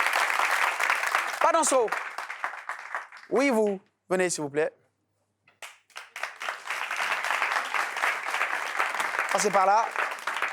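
A studio audience at a French talk show applauds a guest, with broadband clapping swelling at the start and again later, mixed with people talking over it.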